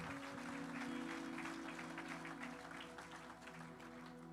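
A church congregation applauds together after a reading of scripture, a steady wash of clapping that holds for several seconds and fades slightly, with a sustained organ or keyboard tone beneath.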